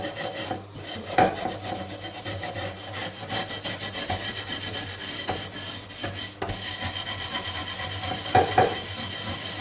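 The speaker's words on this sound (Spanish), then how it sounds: "voy a darle con este estropajo de tallar fino" A fine scouring pad scrubs a surface while homemade grease-cutting dish soap is tested, giving a steady, close rasping rub with brief pauses and a few sharper strokes near the end, with no talking.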